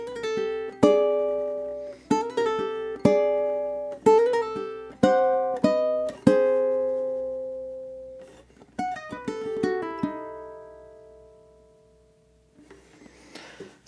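Fingerpicked ukulele playing an eerie Halloween-style etude, single plucked notes and chords ringing out in a loose, unhurried rhythm, close and clear with notes decaying between phrases, ending in a brief soft rustle.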